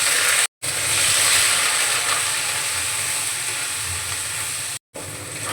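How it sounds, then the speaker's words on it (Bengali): Ginger paste sizzles in hot oil with cumin seeds, a steady close frying hiss that breaks off twice into brief silence. "জিরেটা ভেজে নিয়ে এখন দিয়ে দেব 2 চামচ মতো আদা বাটা।"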